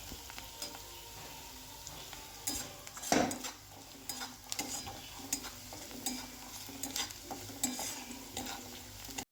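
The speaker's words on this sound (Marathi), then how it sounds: "कांदा व्यवस्थित परतून झाल्यानंतर आता मी टाकते आहे मूगडाळ" Moong dal stirred and sautéed with onions in a pan on the stove: a steady low sizzle under repeated scraping stirs, with one loud clatter near the start, no talking.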